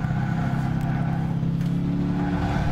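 Race car engine in the video game Gran Turismo 6 during a city trial, a loud, steady droning engine note held close throughout with a faint tire scrub as the car oversteers, no talking.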